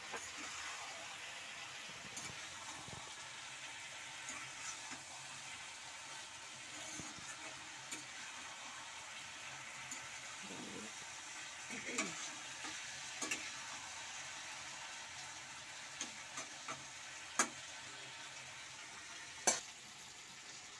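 Chilli chicken is stirred and fried in a pan, a faint low sizzle running throughout with scattered light scrapes and a few sharp utensil knocks near the end, no voices.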